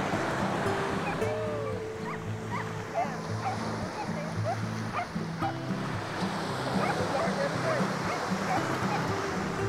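Sea waves wash in at a beach in Zambales as a continuous broad rush of surf, with people talking and pulsing motor or music sounds in the foreground.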